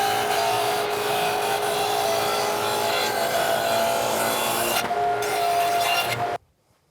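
A power saw runs steadily while cutting a dado in wood, a loud, continuous broadband whine with grinding texture that holds for about six seconds before stopping abruptly into silence.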